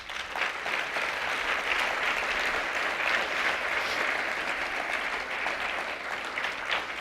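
Members of a church congregation clap strongly for several seconds in a sustained, even wash of many hands, moderately loud with a low background hum and no speech over it.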